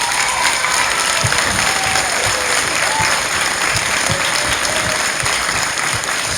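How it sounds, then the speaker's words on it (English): A crowd gives a sustained, even burst of clapping for instructors at the start of a tournament, filling the whole stretch at a steady loud level with no pauses. "give them a round of applause to your instructors here"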